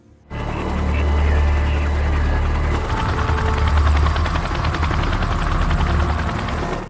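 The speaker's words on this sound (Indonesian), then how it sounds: "Keesokan paginya, sebuah helikopter dari markas diberangkatkan" Helicopter rotor drone that begins abruptly and holds steady, a loud low thudding hum with a choppy texture, fairly close.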